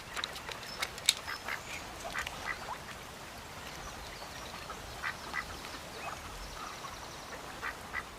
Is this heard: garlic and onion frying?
no